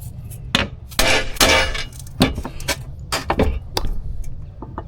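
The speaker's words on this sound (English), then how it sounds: "I'm going to go ahead and punch for the drill" A hammer strikes a metal center punch to mark drill holes during interior stair paneling work, a series of sharp metallic taps at an uneven rhythm, moderately close against a low background rumble.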